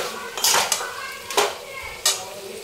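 A spoon scrapes and knocks against a pan while stirring a thick vegetable curry, three distinct close scraping strokes spaced about a second apart over a faint background, with no talk.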